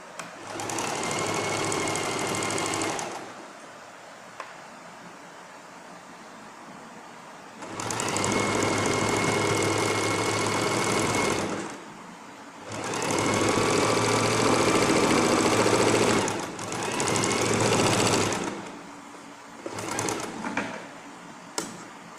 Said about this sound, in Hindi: रिवर्स टांका लगाएंगे दोनों आस्तीनों की वापस